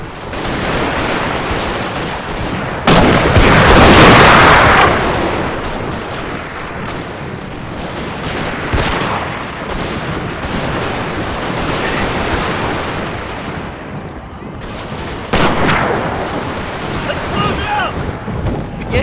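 Total War battle of Bull Run, 1861, in the American Civil War: artillery and musket fire roll in dense booming volleys, loud and continuous, with heavier blasts near the start and end.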